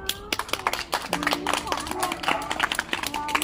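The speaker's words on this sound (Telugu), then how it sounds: "Okay children, give good clap." A group of children clapping in a classroom, a fast rapid patter of many hands lasting a few seconds, close and fairly loud with voices mixed in.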